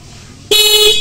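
A pair of horns fitted to a Suzuki Gixxer 155cc motorbike sounds one loud, sustained blast that begins halfway through and holds to the end, close and alone.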